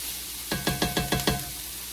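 Italian sausage frying and being stirred in a pan on the stovetop, a loud sizzle broken by about six quick, even scraping strokes of a utensil, close up with no talking.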